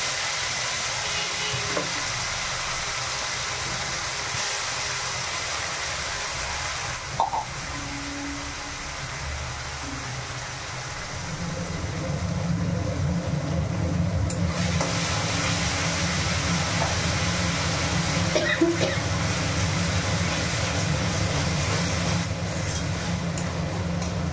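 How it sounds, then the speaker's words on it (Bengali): Spice paste for ghugni frying in a hot pan, a steady broadband sizzle that grows louder and denser partway through and continues unbroken, close up with no talking. "এবারে পেস্ট করা মশলাটা দিয়ে দিচ্ছি।"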